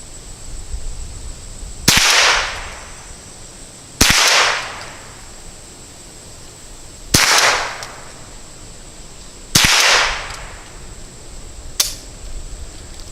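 Henry Survival Rifle firing eight rounds in a series of sharp, loud cracks spaced a couple of seconds apart, each shot trailing a brief outdoor echo, with no talking between them.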